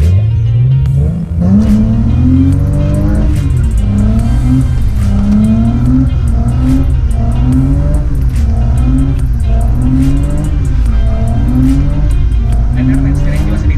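A car drifts with its engine revving in repeated rising and falling surges, tires squealing along, loud and close from inside the vehicle while people talk over the noise.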